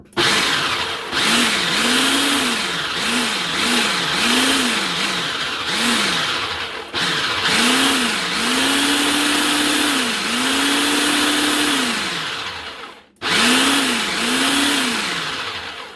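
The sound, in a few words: food processor pulsing sugar to mix it in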